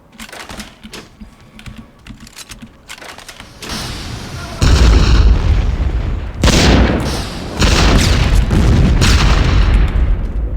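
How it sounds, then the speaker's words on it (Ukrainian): Grenade explosions in the video game BloodRayne: heavy booming blasts strike in quick succession, loud and close, after a stretch of quieter clattering gunfire and action noise. "Засранці гранату. Гранати кидають."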